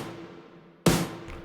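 One punchy snare drum sample from a pop-production pack, processed with a frequency shifter, lands as a single bright crack after quiet, with a faint shimmering tail.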